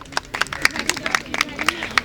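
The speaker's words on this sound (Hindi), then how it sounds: "तो पहले तो इस बात पे तालियां होनी चाहिए।" A small wedding gathering claps in quick, uneven bursts that sound close and sharp, with a voice faintly audible underneath.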